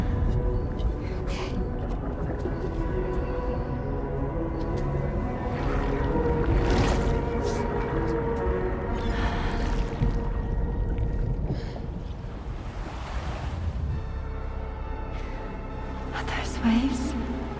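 Ocean waves wash and surge on a beach in Death Stranding 2, a steady broad rush swelling and easing over about eighteen seconds, with game voices and tonal music mixed in.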